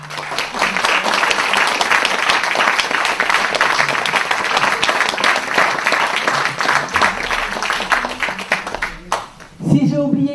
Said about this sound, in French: qu'on les applaudisse très fort, les donneurs de voix.